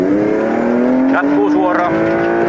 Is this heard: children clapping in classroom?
no